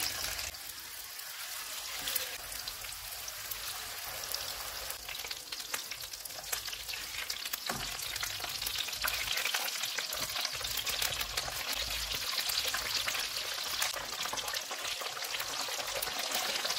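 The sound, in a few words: kofta kebabs frying in hot oil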